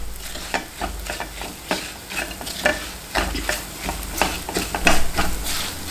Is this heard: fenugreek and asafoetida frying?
yes